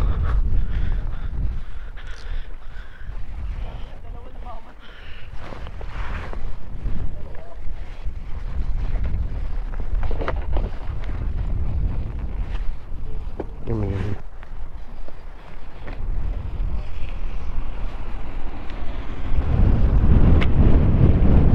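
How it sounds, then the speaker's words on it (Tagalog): Heavy wind buffets the microphone in steady low rumbling gusts during a scooter ride on a mountain loop, with voices talking intermittently over it and a louder roar building near the end. "Sobrang lakas ng hangin."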